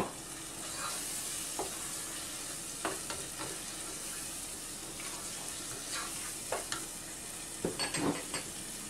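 Tomatoes sizzling and frying with berbere in a pan for a fasting-style firfir, a steady broadband hiss with occasional stirring clicks and scrapes throughout.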